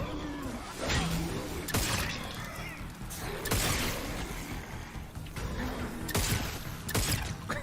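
Gunfire and crashing impacts from a sci-fi horror video game trailer, with repeated bursts of shots, shattering and mechanical clanks, loud and dense throughout with whooshes between.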